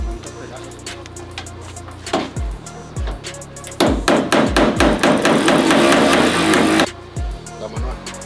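A hammer strikes a socket during restoration of an OBS truck bed, starting with single spaced blows and building to a fast run of loud, close metallic hits, with voices talking in the background.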